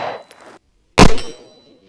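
A single loud, sharp Springfield XD Mod 3 pistol shot cracks close by after a short quiet gap, preceded by fainter clattering and followed by a quick decaying ring.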